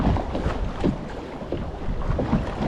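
Choppy water slaps against a kayak in open water near St. Pete while strong wind buffets the microphone, a continuous close rushing with irregular splashes and no voices.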